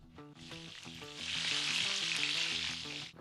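A beef fillet sears in a hot pan with a loud, steady sizzle. A faint melodic background runs beneath it.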